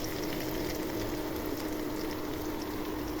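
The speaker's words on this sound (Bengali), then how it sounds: "পেঁয়াজ হালকা ভাজা হয়ে গেছে, এখন আদা রসুন বাটা দিয়ে দিব" Ginger-garlic paste frying with lightly fried onions for a Bengali beef bhuna, a steady, even sizzle that holds close and constant throughout with no voices.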